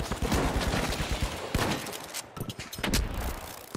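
A grenade explosion in The Finals video game, a loud dense burst amid rapid gunfire and crackling debris, close and continuous through the moment.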